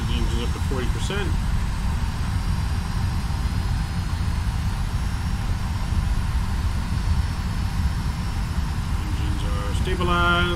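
Steady, continuous engine roar from a Delta Airlines FlightFactor 757-200 airliner spooling up for takeoff in the X-Plane 11 simulator, a constant low drone that holds level throughout, with a few faint tonal blips near the start and end.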